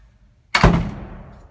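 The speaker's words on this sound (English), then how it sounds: "And now I'm going to shut the door." A very small Federal winding-drum traction residential elevator cab door is shut in a showroom, giving one loud, close thud that fades into a short ringing decay.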